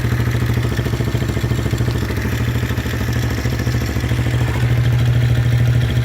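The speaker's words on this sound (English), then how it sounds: "for a little tiny 110cc pit bike, this thing goes." A modified 110cc pit bike engine runs steadily close by, a loud, continuous buzzing drone with a fast mechanical clatter and no talking.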